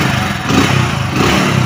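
A secondhand motorcycle's engine runs steadily at idle close by, a continuous low throbbing with slight rhythmic pulses and no talking.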